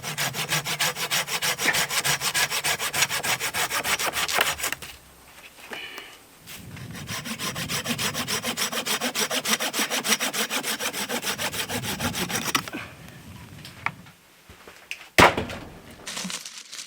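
A Silky pruning saw cuts through a dry, snapped-off eucalyptus branch at a bush campsite, with rapid rasping strokes in long close runs, brief pauses between bursts and a sharp crack near the end.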